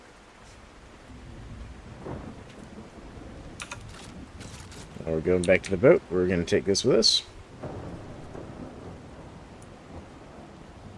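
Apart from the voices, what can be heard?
thunderstorm with rain in a video game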